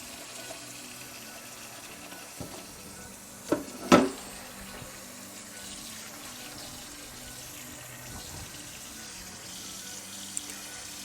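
Water pours from a cooking pot into a kitchen sink in a steady, hissing stream, with a couple of sharper splashes and clanks near the middle, and no talking.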